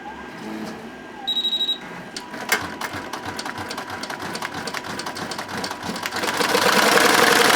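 Embroidery machine stitching a name patch, starting with beeps, then a rapid steady mechanical stitching chatter that continues close and grows louder toward the end.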